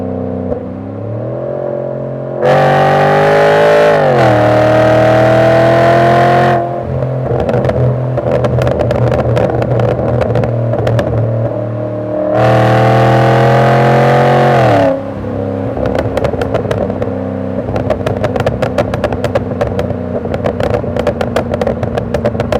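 A Volvo S80 V8 with a custom exhaust revs loudly and close up, two long sustained climbs in pitch separated by a rumbling idle with crackles and pops between revs.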